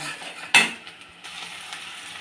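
Onions fry in a pan with five-spice tempering and dried chilies, giving a steady low sizzle. A sharp clatter of a utensil against the pan cuts in once near the start, and the sizzle carries on alone afterward.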